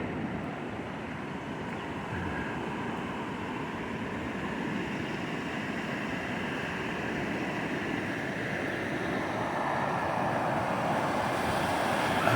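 Arkansas River running high and fast in June, a steady broad rushing roar heard from the bank, constant and even with no voices over it.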